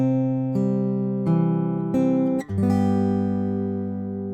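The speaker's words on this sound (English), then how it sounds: "So when I actually play this riff, the roll is happening and I'm landing on that third beat on my ring finger." Fingerpicked guitar playing a song's intro riff with a rolling finger pattern, a few plucked notes landing in a steady slow rhythm, ringing together close and clear with no talking.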